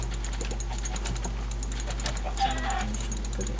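Chickens being hit in Minecraft make short, repeated clucking hurt sounds over a steady low game hum, with keyboard clicks scattered throughout.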